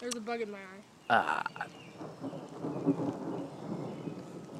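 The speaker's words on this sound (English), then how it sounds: "So it's raining outside." Rain falls outside during a thunderstorm as a steady, soft hiss that continues after a brief burst of speech. A low rumble of thunder rolls in the background.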